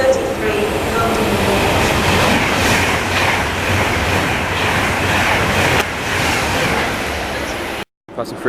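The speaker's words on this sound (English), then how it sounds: "Passing through is another Virgin Trains West Coast," A Virgin Trains West Coast Pendolino speeds through a station platform, its loud continuous roar and rail rumble holding steady for several seconds before dipping and cutting off abruptly.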